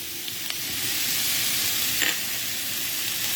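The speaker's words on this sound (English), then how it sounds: "We're going to sweat that all down and get all these aromatics going." Aromatics sweat in a hot pan for couscous curry, giving a steady, close crackling sizzle that holds evenly throughout with no talking.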